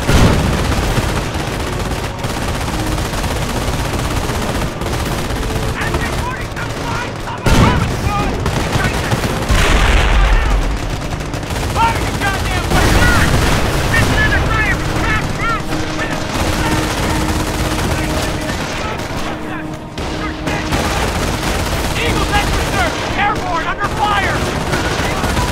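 Battle gunfire in the video game Company of Heroes, with dense rifle and machine-gun bursts and heavy booms rolling continuously, while game voices shout in between the shots.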